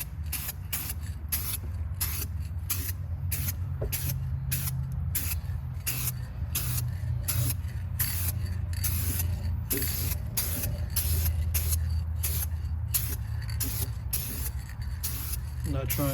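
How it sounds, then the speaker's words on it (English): Eastwood chassis black paint sprayed onto a classic Monte Carlo car chassis during restoration, a steady hissing spray in repeated short pulses over a constant low background hum, with no voices. "Now, we're gonna shake up this chassis black."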